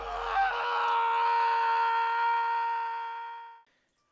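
A long, sustained high scream from a horror anime scene, rising sharply and holding steady for about three and a half seconds before cutting off abruptly, loud and alone.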